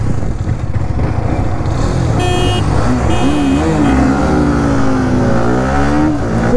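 A Yamaha R15 M or Hero XMR 210 motorcycle accelerates hard as its VVA system kicks in, the engine note climbing and shifting through gears, loud and close with brief high electronic beeps mid-run.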